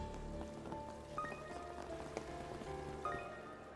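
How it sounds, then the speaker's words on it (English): Light drizzle from the Trails beyond the Horizon video game, a soft continuous patter of raindrops running beneath tonal game music, steady and moderately quiet throughout. "I figured I could handle a little drizzle just fine, but making my rounds has me soaked to the bone."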